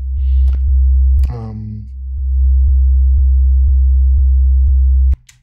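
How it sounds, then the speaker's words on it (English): A pure sine-wave bass tone at about 70 Hz drones loud and steady for several seconds, with a short percussive hit, a sliding tonal sweep and evenly spaced soft ticks over it before it cuts off abruptly. "So all this is a sine wave. It's around 70 hertz"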